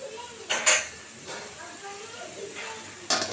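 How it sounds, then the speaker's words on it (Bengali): A metal lid clanks down onto a pot of Bihari-style mutton curry, two sharp close clinks a few seconds apart over a faint steady hiss. "ঢাকা দিয়ে দিলাম।"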